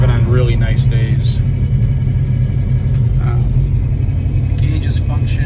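A 1966 Plymouth Satellite engine idles steadily with a loud, constant low rumble, and voices talk over it throughout.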